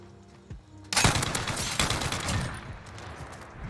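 Sustained automatic fire from the RAAL LMG in a first-person shooter video game, a loud dense burst kicking in suddenly after a second of quieter ambience and rattling on steadily to the end.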